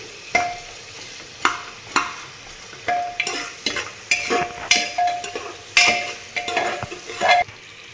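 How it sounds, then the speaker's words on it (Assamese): Sliced onions sizzle in a hot pan for egg biryani while a utensil stirs and scrapes them in a steady run of a dozen or so sharp strokes over a continuous frying hiss. "এতিয়া অকনমান ৰঙচুৱা হোৱালে মই ভাজি থাকিম"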